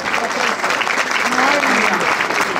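Enthusiastic applause for Eduardo Guerrero at an award ceremony honoring him with an excellence prize, dense steady clapping filling the room, with voices mixed in beneath.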